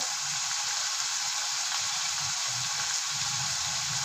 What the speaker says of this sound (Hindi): यहाँ पे हमारा चिकन जब तक फ्राई हो रहा है